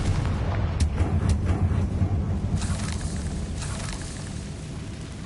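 Confringo fire spell blast in the video game Hogwarts Legacy, a dense rumbling explosion with crackling bursts, loud and sustained across the whole stretch, no talking.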